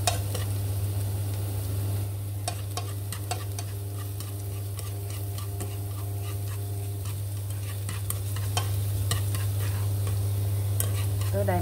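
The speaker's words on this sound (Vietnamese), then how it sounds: "Xào cho sả nó vàng chút xíu nó thơm ha" Lemongrass stir-frying in a pan until golden, with a steady sizzle and repeated scraping, tapping stirs throughout at a close, moderate level.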